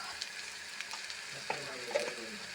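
Coriander powder and garam masala fry in a pan for a pappadam curry, a low, steady sizzle with soft stirring scrapes and a couple of light spoon taps, close but quiet.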